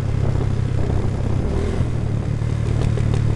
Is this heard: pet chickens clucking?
no